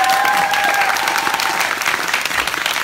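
A theater audience applauds loudly for the actor Geon-woo during a stage greeting after a film screening, a thick, continuous burst of clapping with a brief whistle near the start.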